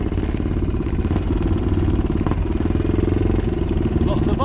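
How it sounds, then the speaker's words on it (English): Several motorcycles idle and rev close by as they line up at a scramble race event, giving a loud, steady engine clatter throughout. "Lots of bikes ready to queue up."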